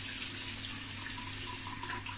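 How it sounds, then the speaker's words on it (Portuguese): Cold tap water runs steadily into a sink during a face rinse, a constant close hiss and splash with no talk. "Vamos enxaguar aqui agora com água fria."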